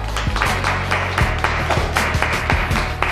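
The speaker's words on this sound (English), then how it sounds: "Right, y'all clap. Clap it up." Crowd applause with a steady wash of clapping, a few sharp individual claps standing out, fairly close and continuous throughout.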